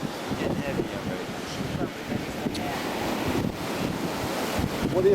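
Surf rolling onto a choppy, windy beach, a continuous wash of waves with heavy wind rumble buffeting the microphone, steady and fairly loud throughout.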